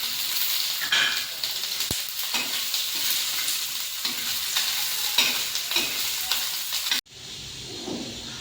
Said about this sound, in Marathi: ओलं खोबरं लालसर कलर होईपर्यंत भाजून घेऊ।